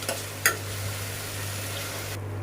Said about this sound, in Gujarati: નાખી દઈશ ટમેટું અને આને એક મિનિટ માટે તળવા આપીશ